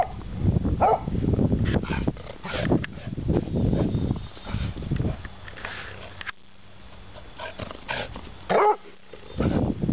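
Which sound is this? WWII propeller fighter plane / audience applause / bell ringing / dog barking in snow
dog barking in snow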